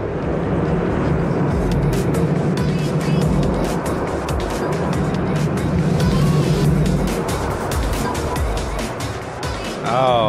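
A Sprint 500 roller coaster car rides the track in the Planet Coaster game, a loud continuous rushing rumble with rapid clattering, and a rising whine near the end.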